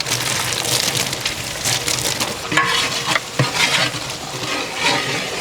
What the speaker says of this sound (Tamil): இதோ வதக்கிடுறேன்